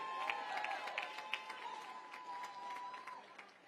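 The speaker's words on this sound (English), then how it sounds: "Let's give them a brilliant applause for helping us to be here" A modest crowd at a Hispanic Heritage reception at Gracie Mansion claps fairly quietly and somewhat distantly, with a thin steady tone running beneath the scattered claps.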